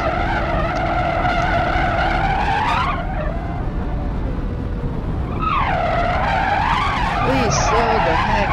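Video game car braking hard with brakes and handbrake, heard as a loud sustained tire screech that fades into engine roar and then rises into a second long skid squeal, all close and continuous.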